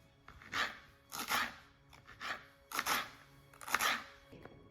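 Several knife cuts through soft food on a cutting board, each a brief rasping slice, about six spaced strokes at an uneven pace, close and fairly quiet.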